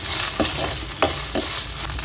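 Green chillies stir-fried in a pan while making a quick egg and coconut kurma, with a steady low sizzle broken by a few sharp scraping stirs of a spoon against the pan, close and with no voices.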